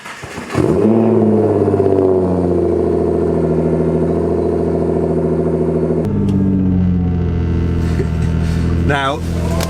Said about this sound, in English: Cold start on a GTR, yeah, listen to this.